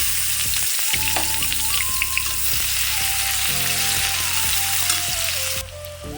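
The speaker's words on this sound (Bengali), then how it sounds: "ছোট ছোট কেটে রাখা পেঁয়াজগুলো দিয়ে দেবো" Onions sizzle and crackle steadily in hot oil, a dense frying hiss with occasional stirring clinks and a few faint tonal sounds in the background.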